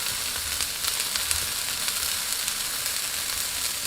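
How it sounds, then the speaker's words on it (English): Onions and peppers frying in a pan, a steady close hiss and sizzle throughout with faint low scraping from stirring, no voices. "So as you can see, that's cooking nicely. So just give it a little stir around. Make sure you're mixing in the onions with the peppers."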